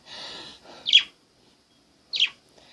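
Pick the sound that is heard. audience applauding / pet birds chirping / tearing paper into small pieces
pet birds chirping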